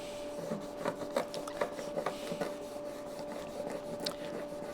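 A rag rubbing hard with isopropyl alcohol across a glue-smeared plastic case from a TRS-80 Model II disk controller, giving steady rasping back-and-forth scrubs close by over a constant faint electrical hum.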